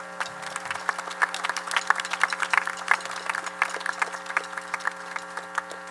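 Scattered applause from a commencement audience for standing prep alumni, with sparse, uneven individual claps rather than a full ovation, heard over a steady low electrical hum.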